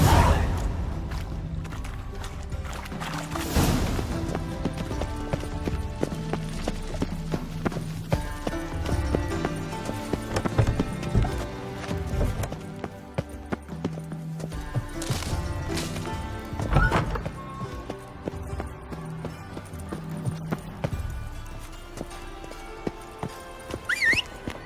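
Roach the horse galloping in The Witcher 3: Wild Hunt, rhythmic clip-clop hoofbeats repeating steadily over a long stretch with a musical score underneath and an occasional whinny, close and fairly loud.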